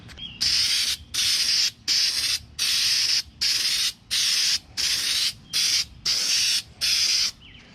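Repeated bursts of aerosol spray hissing as a spray can applies bed liner, about a dozen short blasts in a steady rhythm with brief pauses between, close and fairly loud.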